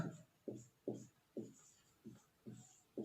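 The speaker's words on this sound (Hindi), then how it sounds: "अब यहां पे लिखेंगे हम" Chalk strokes on a blackboard during a Hindi physics lesson on electric dipoles, seven short scratchy strokes in a steady rhythm, close and clear with no talking.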